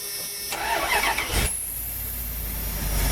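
A Dodge Ram van engine cranks briefly and catches, then settles into a steady, close running idle with a faint high whine over it; no talking.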